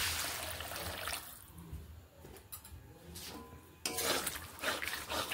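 Ghugni with added water is stirred in a pot, giving close, uneven sloshing and scraping strokes that fade to a quieter gap before a louder burst of liquid churning resumes.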